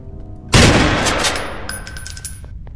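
Gunfire bursts out in a video game, a sharp loud shot followed by a rapid fusillade of rounds that decays over a couple of seconds, with a few fainter trailing shots.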